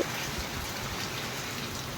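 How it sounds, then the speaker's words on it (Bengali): Heavy rain pouring down in a dense, unbroken roar, close and constant throughout. "বিশাল পরিমাণে বৃষ্টি হচ্ছে"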